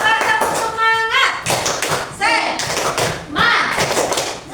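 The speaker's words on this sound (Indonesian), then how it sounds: "Ya, coba tepuk semangat." Indonesian primary school class performing a rhythmic spirit clap, sharp patterned bursts of hand claps and taps in a classroom, with children's voices and a teacher speaking between the beats.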